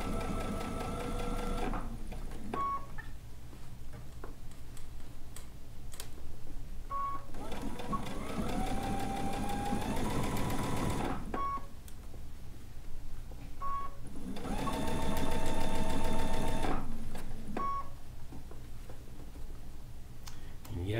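A sewing machine stitches a DIY bucket hat in several long, steady bursts of fast mechanical whirring, with short pauses and clicks between runs, close up and fairly loud.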